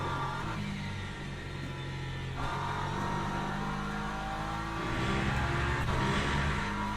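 Hypercars in Le Mans Ultimate race past with a steady engine drone, rising and whining as the cars accelerate and sweep by at a moderate distance, with no talking.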